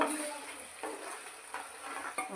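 Masala paste of curd and spices frying in oil for a Punjabi dum aloo, with steady close sizzling and a few scraping stirs of a spoon against the pan.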